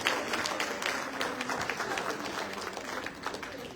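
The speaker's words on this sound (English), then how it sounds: "Give a clap of hands to yourself." Crowd at a Ghanaian political gathering in the USA clapping their hands, a loud, busy round of applause that tapers slightly toward the end.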